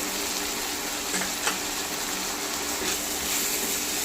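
Ginger, green chili and garlic paste sizzles in a hot pan for a Bengali dhaba-style chicken masala, a steady broadband frying hiss with faint stirring clinks, no talk.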